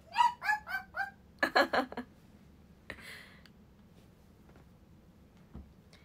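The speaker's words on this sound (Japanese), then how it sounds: "それではナイツー、うわ吠えた" A dog barks in quick bursts, several sharp yips followed by a rapid cluster of barks, then quieter scattered sounds.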